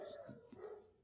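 A dog barks faintly and briefly in a quiet indoor setting, a single short bark that stays soft and distant.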